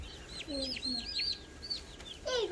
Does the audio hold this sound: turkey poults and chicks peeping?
yes